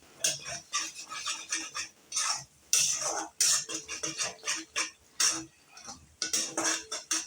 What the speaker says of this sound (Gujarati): મીઠાને આપણે એકવાર સરસ રીતના હલાવીને બધું ઓગાળી દઈશું